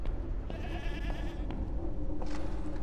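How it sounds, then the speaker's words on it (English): Goats bleat in the Mundaun video game, a couple of wavering, drawn-out cries at moderate distance over a steady low ambient hum. "Why are there goats down here?"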